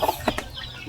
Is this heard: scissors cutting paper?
no